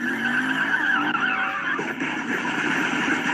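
A car skids and its tires squeal at a street car show during a block party, a loud close screech with engine roar that holds steadily, wavering in pitch, with no talk.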